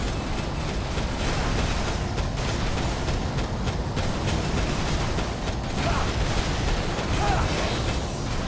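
An armored train rumbles along in the mecha action game Daemon X Machina, a steady loud mechanical clatter and grinding that runs for the whole stretch, with a few heavier metallic knocks near the end.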